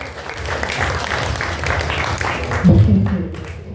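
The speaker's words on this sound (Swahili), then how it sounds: "Pigeni makofi." Church congregation clapping hands together in a broad, continuous wash of applause, with a voice talking over it and a louder burst near the end.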